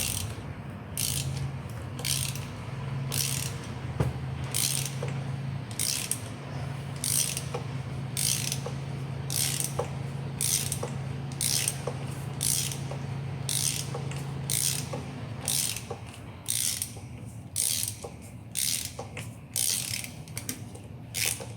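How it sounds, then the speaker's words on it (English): A hand ratchet clicks steadily while loosening glow plugs on a Skoda Octavia 2.0 diesel engine, its rapid rhythmic pawl clicks coming in repeated close bursts over a low mechanical hum, with no talking. "I'm going to get the others out, save you watching me ratcheting"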